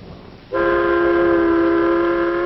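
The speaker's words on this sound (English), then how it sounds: "Ride the elevated train all the way from the Battery far uptown." A New York elevated train's horn or whistle sounds loud and close, a sustained multi-tone blast starting after a brief low rumble and holding steady to the end.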